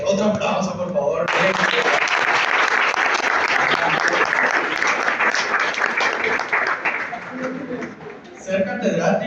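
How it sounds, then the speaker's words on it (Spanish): Classroom applause at the end of a university tax law lecture: a burst of many hands clapping, loud and steady, with voices talking briefly before it begins and again as it fades. "Bueno, compañeros, otro aplauso,"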